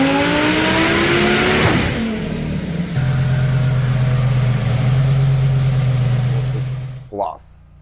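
Engine of a Lamborghini Huracan tuned past 2,000 horsepower revs hard and loud, then holds a steady high drone for several seconds before cutting off abruptly, with a brief rumble at the end.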